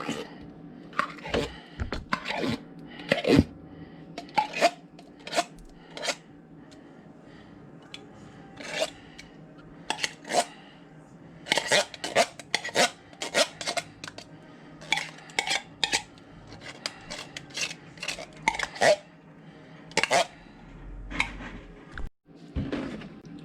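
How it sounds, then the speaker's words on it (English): A utensil scooping condensed mushroom soup from a can into a pot, with repeated close metallic scrapes and clinks against the can and the pot, coming in irregular bursts with short pauses between them. "Scoop can of soup into pot."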